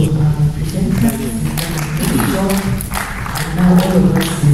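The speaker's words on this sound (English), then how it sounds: "So a round of applause to our presenters." Audience applause for conference presenters fills the room as a steady, dense wash of clapping, with voices and tonal murmurs running underneath throughout.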